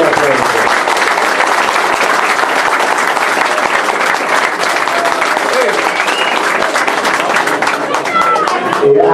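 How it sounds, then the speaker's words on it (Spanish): Loud, sustained applause from a crowd at a public gathering, many hands clapping in a thick continuous wash with voices and a few cheers mixed in throughout. "Un gran aplauso."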